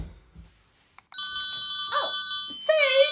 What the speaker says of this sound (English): Oh, Suze, your phone's ringing again.